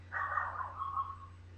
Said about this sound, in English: that dog is so naughty. I just can't get her to stop barking.